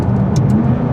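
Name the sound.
McLaren 570S turbo engine noises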